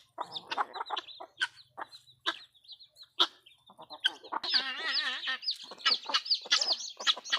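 Chickens cluck close by in a busy, continuous chatter, with one bird letting out a longer warbling call partway through.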